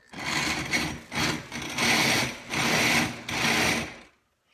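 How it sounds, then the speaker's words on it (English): An electric drill whirs steadily in a garage home-brewing setup, running in several sustained bursts with brief dips between them before cutting off, close and loud. "I got my drill, and I hook her up right here. And then I just let her rip."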